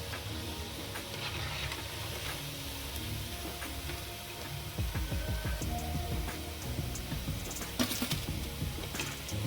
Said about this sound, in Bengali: এইভাবে আমি আরও সব কাটলেটগুলো ভেজে নেব।